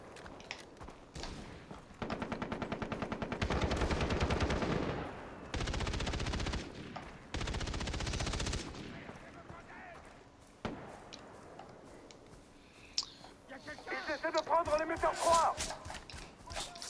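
Sustained bursts of rapid automatic fire from a K47 rifle in Far Cry 3, several long volleys separated by pauses, with game effects and some voices toward the end.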